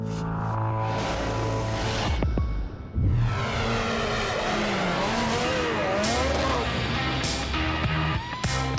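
Touring race cars from the 2013 WTCC round at Sonoma rolling off for the formation lap, engines revving and rising in pitch as several cars pass close by, loud and continuous, with faint commentary underneath.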